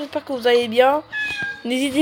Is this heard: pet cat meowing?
yes